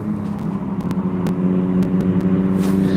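Motorbike engine droning past nearby, a steady buzzing roar with a few sharp clicks over it.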